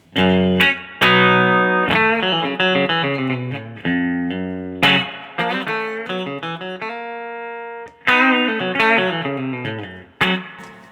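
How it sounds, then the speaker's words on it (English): Distorted electric guitar plays loud strummed chords and a sustained note, each ringing out with a splashy, wet reverb tail from a Strymon Flint pedal on its spring setting. "I've got reverb coming from this Strymon Flint here, and it's on the spring setting."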